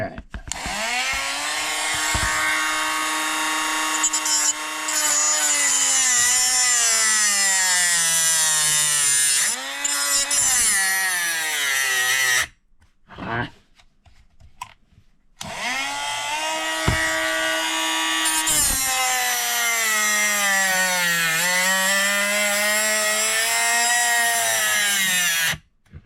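A battery-powered rotary grinding tool whines loudly up close while shaping a small 1/64 scale John Deere farm toy part, running in two long bursts with a brief pause between and pitch dipping under load.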